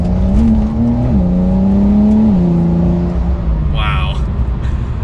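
Engine of a Porsche 911 Carrera S 992 heard from inside during a test drive, a loud steady drone that rises and shifts in pitch through gear changes, with a brief higher chirp near the end.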